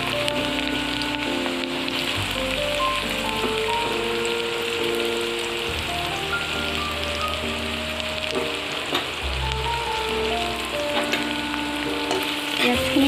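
Sliced onions sizzle steadily in hot oil in a pan for an Assamese dried-fish fry, a continuous dense crackle that stays even and close throughout, with faint tonal sounds running underneath.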